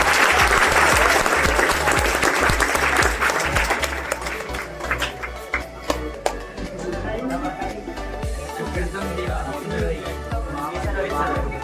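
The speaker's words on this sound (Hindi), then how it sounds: "एक बार जोरदार ताली" Loud, sustained applause from a class of students during a science practical, dense clapping that swells at the start, eases slightly, and continues steadily to the end with some voices mixed in.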